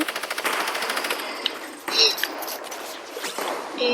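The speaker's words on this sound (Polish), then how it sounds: "Jakiś typek ze swoim skinem z minigana mnie nawala." Rapid, rattling minigun fire in a multiplayer video game, a fast burst of close shots at the start followed by scattered gunfire, impacts and game effects, with a player's voice talking over it.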